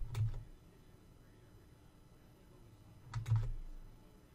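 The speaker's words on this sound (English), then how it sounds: "I'm going to type in the left side" Two short bursts of quick key taps on a calculator or keyboard while solving an algebra problem, faint and close, separated by a quiet pause.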